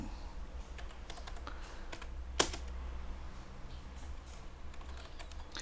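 Notes are being entered into Sibelius with typing on a computer keyboard. Close, uneven clusters of soft key clicks come with one sharper, louder key strike midway and no speech.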